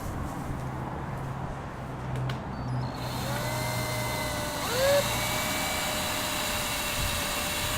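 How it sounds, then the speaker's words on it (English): A power drill fitted with a bit from a drill bit kit whines steadily while boring a hole for a wall plug, rising in pitch midway and running alone without talk. "Drill up to that mark there, please."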